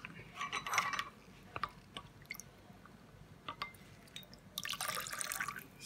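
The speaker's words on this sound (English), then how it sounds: "And then you pour into your water mixture to dilute it." Liquid poured into a water mixture while making homemade hand sanitizer, heard as splashy trickling and dripping in two short bursts near the start and end, with quieter drips between.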